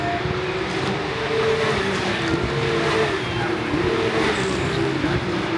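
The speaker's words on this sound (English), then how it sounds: "As you can hear, the cars are very, very loud in the background." Porsche Carrera Cup GB race cars during qualifying at Brands Hatch, a continuous loud engine roar that drones steadily through the whole stretch, with no clear single pass-by standing out.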